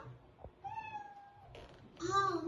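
A person imitates a cat's meow in a children's kindergarten lesson about domestic animals, giving a drawn-out tonal mew in the middle and a louder, harmonic-rich meow near the end, close and clear with a quiet background.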